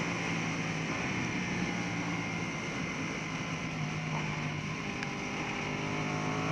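A custom Ducati Panigale V2 motorcycle is ridden on a race track, its engine a steady, loud, continuous drone heard close up, mixed with rushing wind noise and no clear gear changes.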